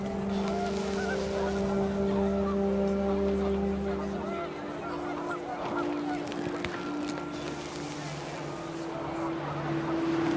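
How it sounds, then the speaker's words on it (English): Panicked geese honking in the video game What Remains of Edith Finch as wind picks up, a steady chorus of overlapping honks with a low engine-like drone underneath, fairly loud and continuous. "panicked geese appeared and quickly went"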